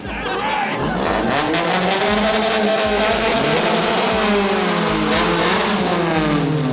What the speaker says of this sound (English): If you rev your engine like that